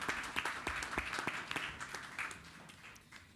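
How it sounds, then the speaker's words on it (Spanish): Audience at a Santiago business conference panel applauds to welcome a panelist, with distinct individual claps in a moderate, uneven patter that gradually thins out toward the end. "Cuando llegue el aplaudimos."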